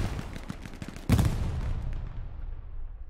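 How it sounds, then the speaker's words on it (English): Gunfire in the World War II shooter game Hell Let Loose, a rapid burst of close shots followed by a loud heavy blast and lingering distant firing and rumble, with no talk over it. "I'm gonna shoot"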